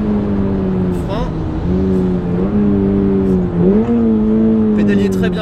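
A Toyota GR86 sports car engine revs and pulls hard under acceleration, its pitch climbing, dipping at shifts and climbing again, loud and steady from inside the cabin, with occasional voices in the background.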